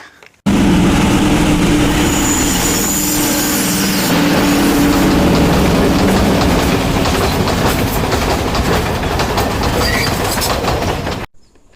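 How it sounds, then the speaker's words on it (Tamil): A train rolls past at Ihalakotte in Sri Lanka, loud and near, with steady rumbling and clickety-clack wheel rhythm sustained for about eleven seconds before cutting off. "நாங்கள் ட்ரெயின் வரதையும் பார்த்தோம்"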